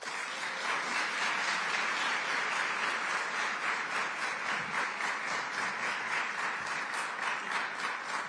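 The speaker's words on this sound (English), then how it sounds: "Let's give her a big round of applause" An audience claps steadily for a senator at a New York governor's event, a sustained, even wash of applause with faint voices mixed in.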